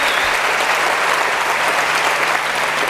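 Audience applause at a civic gathering, steady dense clapping that fills the room without a break, loud and continuous from start to finish.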